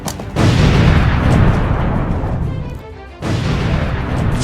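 Within a staged Nerf gun battle, a grenade explosion sound effect lands as a loud, rumbling boom, drops briefly, then surges into a second heavy burst.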